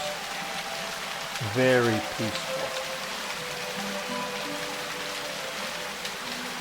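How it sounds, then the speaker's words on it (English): The Guadalupe River in Texas rushing over rocks, a steady broadband hiss of moving water close by, with a brief tonal sound and a short spoken remark over it early on. "listening to the water and its roaring sound over rocks"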